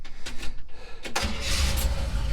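A 1971 Chevy C10 pickup being hotwired cranks with a few choppy bursts, then catches and settles into a loud, rough idle close by.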